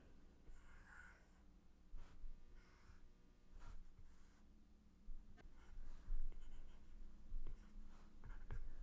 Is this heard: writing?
yes